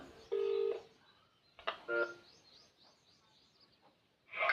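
A few distinct telephone keypad tones beep in short bursts, separated by pauses, with faint background noise and a final tone at the end.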